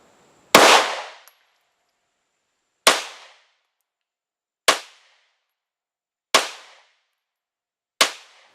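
Five sharp 9mm pistol gunshots fired through a Primary Machine Stealth Comp compensator ring out alone at spaced intervals of roughly two seconds, each a loud crack with a short decaying tail.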